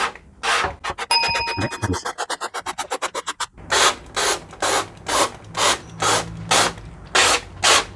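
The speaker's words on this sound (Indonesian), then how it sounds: "kita semprot pelan-pelan." A hand sprayer mists water onto a PCB screen-printing screen in quick rhythmic bursts, first a rapid run of short spritzes, then about nine slower, evenly spaced puffs, close and loud.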